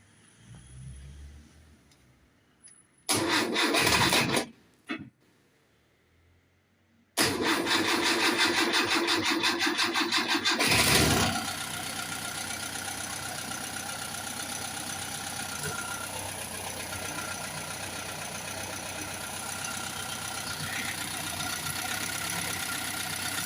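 A Simca Aronde 56 car that had run out of fuel cranks in brief bursts after refuelling, then catches and settles into a steady, loud, close idle with a slight knock.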